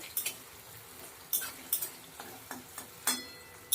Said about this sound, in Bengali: হালকা ভাজা হয়ে গেল টমেটো আর নারকেলটা